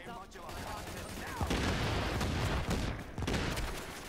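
Gunfire in the video game Tom Clancy's The Division, a dense burst of rapid shots that starts after a brief lull and keeps rattling loudly under a voice that talks over it.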